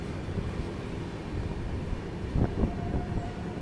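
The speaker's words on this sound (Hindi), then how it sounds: "मुंबई जिला कोई एक्सप्रेस ट्रेन वहाँ पे निकली।" An express train on an Indian Railways line passes at a distance, a steady rumbling roar with a brief louder surge of wheel and rail noise near the end, continuous throughout.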